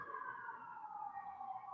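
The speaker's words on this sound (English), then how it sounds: "If you're hearing a lot of sirens" A siren wails steadily outside, a continuous far-off emergency vehicle tone drifting slowly downward in pitch as it passes, alone without talk.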